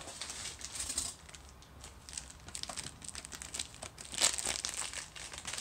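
A plastic bag from a desk lamp's packaging crinkles and rustles up close in irregular bursts, quiet overall with a louder crackle near the end.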